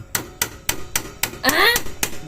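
A hammer pounds a stuck clutch part off a Yamaha Mio motorcycle, about eight sharp metallic blows at a steady rhythm, close and loud, with a brief ringing scrape partway through.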